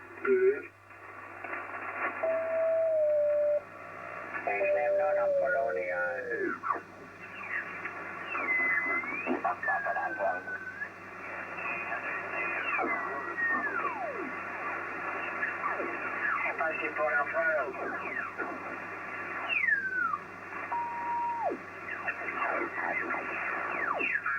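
A ham shortwave radio tunes across noisy 80 and 40 metre bands: warbling whistles, sliding tones and garbled voices over a constant hiss of static.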